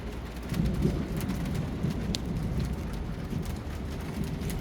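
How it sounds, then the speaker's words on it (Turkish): Steady rain patters down in a continuous soft hiss with a low rumbling undertone and occasional distinct drops, heard outdoors without voices. "Şimdi de yağmur yağıyor."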